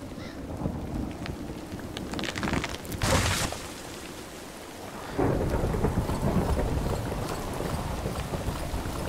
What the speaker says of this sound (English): is it thundering?